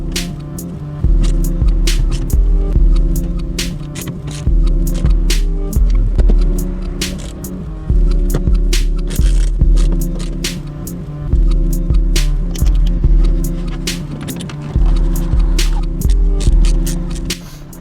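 A BMW 318ci convertible's fuel pump buzzes as a steady electrical hum with low throbbing, cycling on and off in roughly two-second bursts, close and fairly loud.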